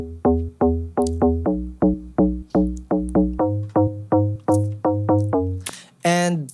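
A drop bass synth patch from a Serum preset, made for a remix, pumps in a rapid series of punchy, plucked notes with deep low end, stepping through a few pitches before a brief swelling tail.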